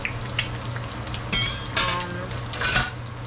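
Eggs fry in a pan with butter and pan spray, a steady close sizzle with brief scraping and clinking of a utensil against the pan.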